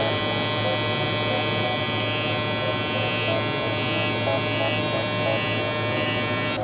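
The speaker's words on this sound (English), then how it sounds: "Next with our trimmer, we'll softly just line up the cheek." An electric hair trimmer buzzing steadily at close range as a barber lines up a client's cheek during a fade haircut, a constant bright hum with no pauses.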